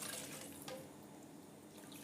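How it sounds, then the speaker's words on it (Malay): A little water is added to a pot while cooking fish: a soft, brief pour and trickle, quiet and close, with faint dripping afterward. "Sekejap saya tambah air sikit."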